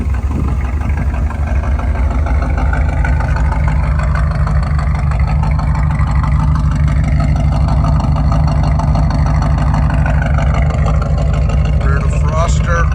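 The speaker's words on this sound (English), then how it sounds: "Great exhaust system on here." A 1981 Chevrolet Corvette sits with its engine running, a steady low exhaust rumble holding throughout at close range, with a voice talking over it.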